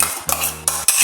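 A spoon stirs ground coconut paste into cooking beetroot in a pan, with quick scraping strokes and clinks against the pan and a faint sizzle underneath, close and loud.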